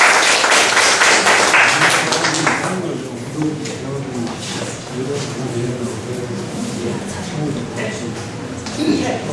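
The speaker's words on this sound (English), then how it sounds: "So let's welcome them with a big clap." An audience claps and applauds for guest speakers at an indoor talk about a motorcycle trip across the USA, with steady, dense clapping that is loudest at the start and holds through the clip, with some voices mixed in.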